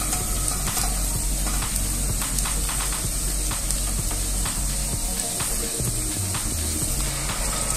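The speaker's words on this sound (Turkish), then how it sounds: "Soğanım çok güzel kavurdu." Onions frying in a pan for a Hatay Arsuz-style zucchini kavurma, a steady close sizzle with scattered crackles and occasional stirring scrapes, no voices.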